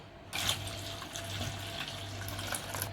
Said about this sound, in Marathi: थंड पाणी ओतूया